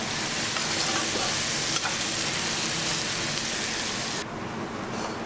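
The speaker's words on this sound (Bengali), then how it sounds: "পেঁয়াজ একদম ভাজা হয়ে গেছে।" Onions fry and are stirred in a pan for chicken ghugni, a steady loud crackle of sizzling oil with scraping stir strokes, close and continuous, easing slightly toward the end.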